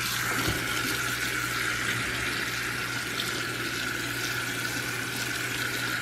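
Kitchen sink tap running steadily as food is rinsed under it, a continuous close splashing rush of water with no breaks and no talking.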